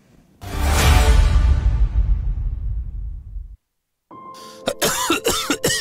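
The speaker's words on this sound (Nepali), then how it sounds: "खोक्न फेरि सुरु भयो है।" A person coughs once, a long, loud, harsh, close cough that trails off into silence. Brief, fainter rasping sounds follow near the end.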